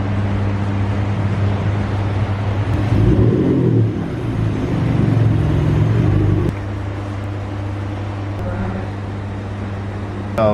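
An Audi A1 hatchback is driven into a workshop unit, its engine a low steady hum with a swell of revs midway before settling back to a lighter idle-like drone, heard close with no talk.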